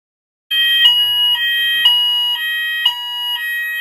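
A room alarm in a standard holiday-park bedroom at Butlins Minehead starts abruptly and keeps sounding as a loud, continuous electronic tone. It pulses with a regular beat about twice a second, with no talking.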